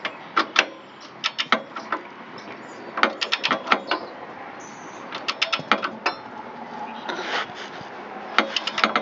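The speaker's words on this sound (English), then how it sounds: "using my brand new torque wrench that I bought just yesterday at Harbor Freight Tools, we'll get that set" A new torque wrench set to 75 foot-pounds tightens trailer hitch bolts on a Buick Rendezvous. Bursts of rapid ratcheting clicks come in clusters with short pauses, close and fairly loud, and there is no talk.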